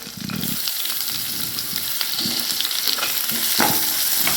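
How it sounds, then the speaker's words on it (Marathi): Finely chopped onion frying with browned garlic, cumin and spices in a pan for a rajma dish, a continuous close sizzle broken by spatula stirring scrapes, with no voices. "कांद्याला छानपैकी लाल होईपर्यंत भाजून घ्यायचं आहे"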